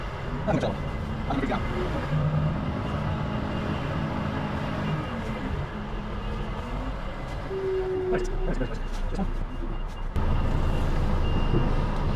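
A Volvo FH truck reverses in a flat yard while swapping trailers, with steady engine rumble, a few reversing beep tones and hissing air, set against a constant background drone.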